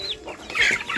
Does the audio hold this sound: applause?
no